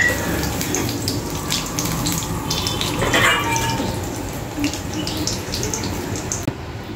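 Whole cumin, black cumin and spices sizzle in hot oil for tempering, a steady close hiss and crackle like running water that stays even throughout and cuts off near the end.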